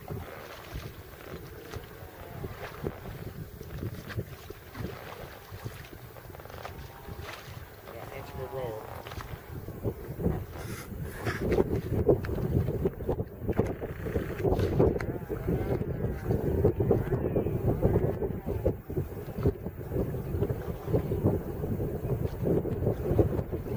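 Oars dip and pull an inflatable pontoon boat through water, steady sloshing strokes growing louder midway, with wind buffeting the microphone and a voice speaking over parts of it.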